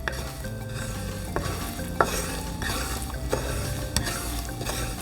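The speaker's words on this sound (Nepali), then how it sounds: "सुजीलाई भुटिरहेको छु" Semolina stirred and roasted in ghee over medium-low heat for halwa, a continuous soft sizzle broken by repeated scraping strokes of a spoon against the pan.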